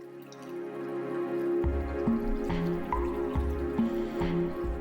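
Iron-rich thermal spring water drips steadily into a 15,000-litre holding tank, each drop a distinct close plink in a regular rhythm over a constant low hum.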